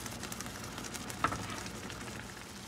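Chicken cooking in a pan for korma, a faint, steady sizzle and soft bubbling with one small pop partway through, with no talking.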